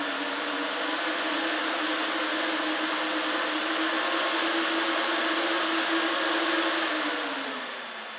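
Goldshell ST Box ASIC miner running while hashing, a loud steady fan whoosh with a constant hum, holding level for several seconds before easing slightly at the end.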